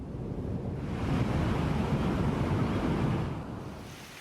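Heavy surf and rough ocean waves roll onto an empty beach during extreme weather near Karimunjawa, a continuous broadband roar with gusting wind noise on the microphone, swelling in the middle and easing at the end.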